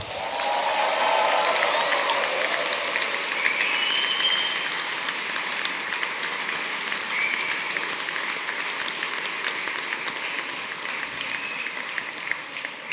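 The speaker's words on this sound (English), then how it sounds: "A round of applause." Graduates at an afternoon graduation ceremony receive applause from the hall, a broad sustained clapping that is strongest at the start and eases slightly while staying steady, with a few cheers.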